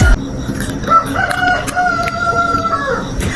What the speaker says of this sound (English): How come the rooster is out here doing whatever he's doing at night?